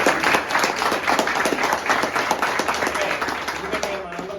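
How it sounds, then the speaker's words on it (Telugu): An audience at a motivational gathering claps in a dense, steady burst of applause that keeps going for several seconds. "చప్పట్లు కూడా గొప్పగా ఉండాలి, చప్పగా ఉండకూడదు."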